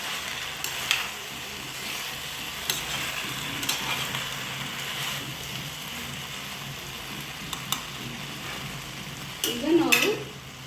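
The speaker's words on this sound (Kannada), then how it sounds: "ಗೋಬಿಯನ್ನು ಎಲ್ಲ ಸೇರಿಸ್ಕೋಬೇಕಾಗುತ್ತೆ. ನೀಟಾಗಿ ಮಿಕ್ಸ್ ಮಾಡ್ಕೋಬೇಕಾಗುತ್ತೆ." Fried cauliflower gobi manchurian is stirred in a sizzling pan: a continuous frying hiss with light scrapes and taps of the spoon, and a louder stir near the end.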